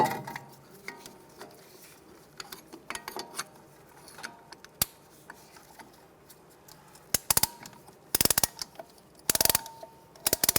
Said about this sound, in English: Using a caliper compressing tool, we want to push the piston back into the caliper.